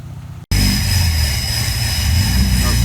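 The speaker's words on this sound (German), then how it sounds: "Irgendwas quietscht ganz fürchterlich." A car with some fault idles and runs after a brief cut at the start, a steady droning engine noise with a faint high whine on top that could be the terrible squeak, close and loud.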